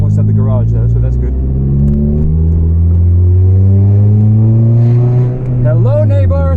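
A Volvo 440 car drives with a massive exhaust leak, giving a loud, deep droning engine note that rises steadily in pitch as it accelerates, then dips and climbs again, with a voice talking over it at times.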